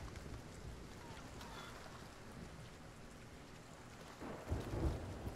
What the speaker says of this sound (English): Storms and Sea of Thieves are rough.